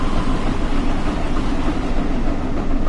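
The Flying Scotsman steam locomotive in Train Sim World 4 rolls along the East Coast Main Line, a loud, steady rumble of wheels on rails that carries on without a break.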